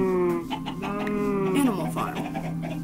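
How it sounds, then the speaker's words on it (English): Chickens cluck on a Minecraft SkyBlock animal farm, a few short squawky calls sounding close and fairly loud over a steady game background, with a voice talking alongside. "So we now have animals, chickens, sheep, cows, and a bunch of mobs."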